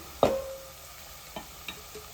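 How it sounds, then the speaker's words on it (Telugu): Onions frying in a pan with a spoonful of turmeric, stirred with a spoon: a sharp metallic scrape and clink near the start, then a few quieter taps over a faint steady sizzle. "ఒక స్పూన్ అయితే పసుపు వేసుకొని కలుపుకోవాలి"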